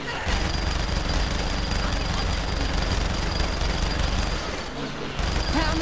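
Minigun fire in the game Saints Row The Third, a dense, continuous rattling barrage of rapid shots, loud and close, with a brief dip near the end before it resumes.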